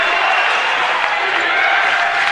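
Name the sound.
basketball crowd cheering for Dordt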